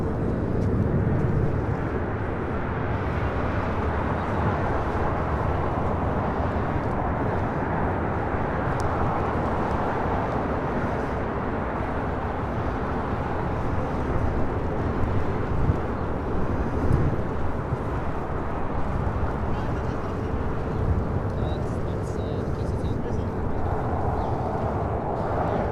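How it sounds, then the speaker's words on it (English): A Hawaiian Airlines A380 rolls down runway 24 left at LAX, a steady, broad jet roar heard from a distance with no voices, holding even throughout. "We have a Hawaiian A380 now rolling down at 24 left."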